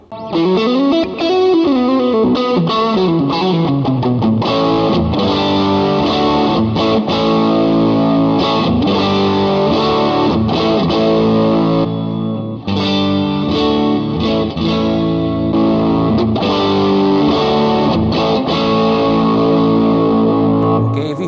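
Electric guitar through a Peacehill FX mid-hump overdrive pedal on the neck pickup plays a continuous riff of chords and single notes, gritty and sustained, loud and close with no talking.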